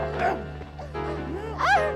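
A dog gives a few yipping, whiny barks close by while gripping a man's arm, interrupted by his strained voice; the barks come in short bursts, in a Heidi cartoon episode.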